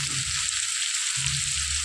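Chopped onion frying lightly in a pan, giving a continuous, even, close hiss of sizzling oil with no talk.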